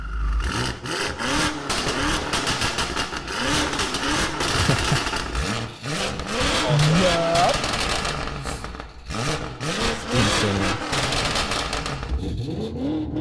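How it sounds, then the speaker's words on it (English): A loud car engine revving hard and rising in pitch, surging and dropping repeatedly, close by, with a brief spoken exclamation over it. "It's like such a high revving."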